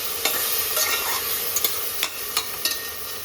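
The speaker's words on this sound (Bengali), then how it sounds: "এবার ভালোভাবে আমি মশলাটাকে একটু হালকাভাবে কষিয়ে নিচ্ছি" Tomato and spice paste sautéed in a pan, a close, steady sizzle punctuated by several sharp spatula scrapes and taps at irregular intervals, without speech.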